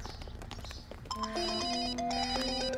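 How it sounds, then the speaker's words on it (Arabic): A mobile phone ringtone plays a melodic electronic tune, stepping through sustained tones with a steady repeating pattern; it follows soft background movement and then rings continuously at moderate volume. "موبايل عم يرن."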